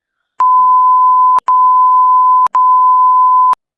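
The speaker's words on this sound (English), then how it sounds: "So I'll be like, beep, beep, beep, beep, beep." Censor bleep tones, three steady sustained beeps of about a second each with brief gaps between, loud and clean with no voices.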